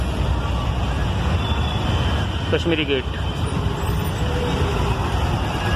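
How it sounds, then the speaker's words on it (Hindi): Busy road traffic at Kashmiri Gate in Delhi keeps up a constant engine drone and rumble, with a brief horn-like tone rising partway through, while someone talks over the din. "देखो ट्रैफिक अच्छा खासा"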